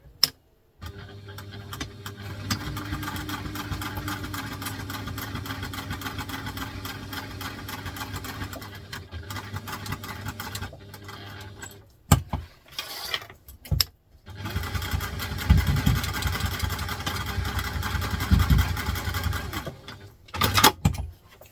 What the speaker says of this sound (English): now I'm going to take that to the machine and I'm just going to stitch around the edges